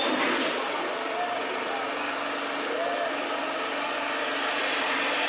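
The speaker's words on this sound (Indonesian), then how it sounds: "mesin hidup." A generator set with a power fault runs after starting, a loud, steady, buzzing engine drone holding constant throughout with no pauses.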